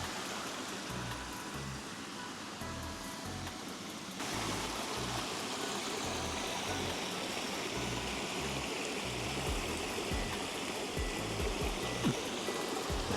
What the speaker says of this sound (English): Water, sound of water, peaceful.